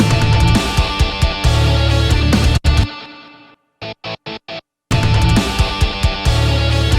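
Distorted, effects-heavy rock music plays loudly, cuts to a near-silent gap with a few short bursts around four seconds, then returns at full volume, panned from left to right.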